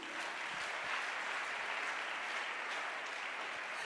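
A church congregation applauds continuously for a few seconds, a dense, even wash of clapping that is moderately loud and steady with no voices rising above it.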